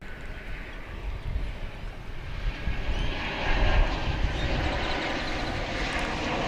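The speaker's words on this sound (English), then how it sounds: "It's an Airbus A321." Airbus A321 arriving from Salt Lake City at Dallas Fort Worth airport, a loud, continuous jet engine roar that swells slightly midway and holds steady, with no talking over it.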